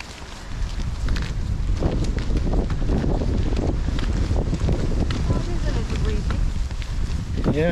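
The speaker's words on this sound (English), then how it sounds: "The wind is there." Strong wind roars steadily across the summit of Ben Nevis in Scotland, buffeting the microphone with loud, continuous gusts throughout.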